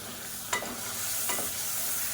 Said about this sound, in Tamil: இப்போ இதையும் சேர்த்து நல்லா வதக்கி விட்டுக்கலாம்